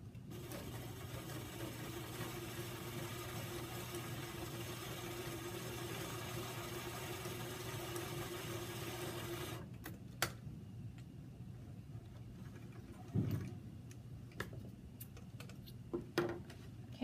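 A sewing machine stitching sample fabric on a 5/8 seam, a steady low mechanical hum and rapid needle chatter that runs continuously for about ten seconds, then stops and gives way to scattered handling clicks and taps.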